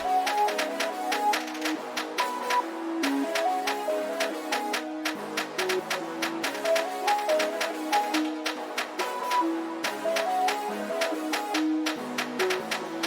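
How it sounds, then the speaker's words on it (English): Drill beat with counter snares processed through radiator, Effectrix and EQ, playing as dense, loud rhythmic hits over bouncy melodic notes throughout, with no talking. "now the counter snares sound like this"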